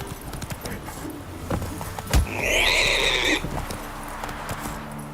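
Horse hooves clip-clop in an 8-bit retro video game, with a steady game soundtrack and a short, bright, whinny-like burst in the middle.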